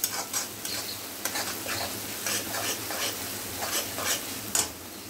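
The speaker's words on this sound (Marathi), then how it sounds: "सो आपल्याला हे छानपैकी परतून घ्यायचं आहे." Spring onion greens with moong dal and peas sizzling in a pan while a spoon stirs and scrapes them, giving a steady close frying hiss with soft rhythmic stirring knocks.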